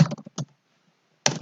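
A URL is typed on a computer keyboard into the Firefox web browser: a quick burst of close key clicks, a short pause, then another fast cluster of keystrokes, with no one speaking.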